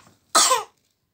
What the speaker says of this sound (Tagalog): Yeah, inuubo siya.